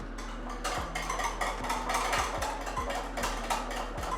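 Batter for cupcakes is whisked in a bowl by a child, with rhythmic repeated clinks and scrapes of the whisk against the bowl at a steady pace.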